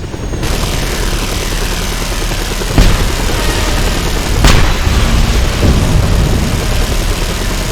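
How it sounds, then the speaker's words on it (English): In the video game Just Cause 2, a missile launches at an enemy base. Sharp booms and blasts cut through a steady roar of engine and rumbling noise. "Missile launch! I'm gonna want to, take out this base."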